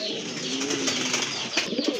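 Large yellow pigeons at a market stall coo softly under a steady wash of background noise, with faint low calls drifting through a busy setting.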